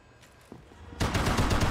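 Gunfire from enemies in the Max Payne 3 video game: quiet at first, then a loud burst of rapid repeated shots at the end.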